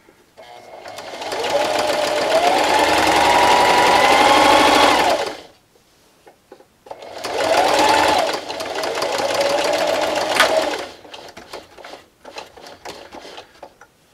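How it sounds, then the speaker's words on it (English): A home sewing machine stitches fabric for a Halloween treat bag in two loud, steady runs of rapid whirring, separated by a short pause, then trails off into scattered clicks and handling. "going to sew up till I get to my first line here"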